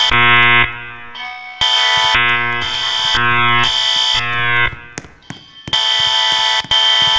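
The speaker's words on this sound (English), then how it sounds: "This is a combination of voice evac system and horn strobe." Loud fire alarm horn blasts from a voice evacuation and horn strobe system in a Roblox elementary school game, in a repeating pulsed pattern, harsh and buzzy, with short gaps between bursts.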